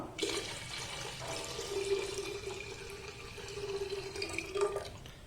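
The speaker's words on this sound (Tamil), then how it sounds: "இப்போ நார்மல் வாட்டரில் ஒரு 5 கப்பு தண்ணி சேர்க்குறோம்." Five cups of water poured into a clay pot while cooking traditional sweet pongal, a steady splashing stream running continuously for several seconds with no talking.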